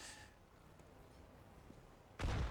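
An HE grenade in Counter-Strike: Global Offensive, during a pro match, detonates as a single sharp, loud blast near the end, after a quiet stretch of faint game ambience.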